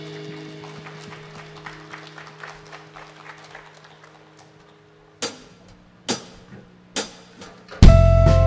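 A church congregation at a worship service bursts into several sharp rounds of clapping as a sustained musical chord fades, ending in a loud surge of applause.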